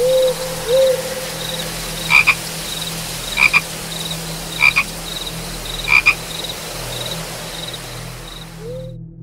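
A frog sound effect in a Tagalog horror story about an aswang turned into a frog: a handful of sharp, evenly spaced croaks ring out over a hissing background drone, loud and alone with no talk.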